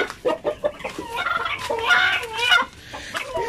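Chickens on a farm cluck and squawk up close in a quick run of calls that rise into a louder, drawn-out squawking before easing off, with no talk.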